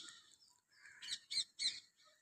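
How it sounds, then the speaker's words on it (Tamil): Parrots give a series of shrill, squawking calls, three louder bursts close together near the middle, with no talk over them. "கிளிகளின் சத்தம்"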